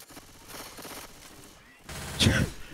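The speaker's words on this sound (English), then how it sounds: "I can hear your gunfire." Gunfire from the video game Left 4 Dead 2, a short burst of rapid shots rising near the end, heard faintly in the background behind a voice over a game headset.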